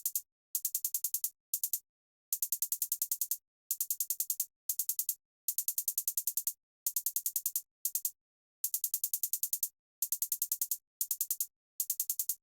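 A crisp electronic hi-hat pattern built in FL Studio ticks in rapid, evenly spaced bursts, broken by short deliberate pauses between groups, bright and dry with nothing else playing.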